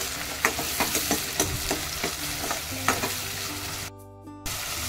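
Chopped tomato fries and sizzles in a pan as it is stirred, with a steady broad hiss broken by repeated clinking scrapes of a spoon, close and fairly loud, with a brief quieter gap near the end.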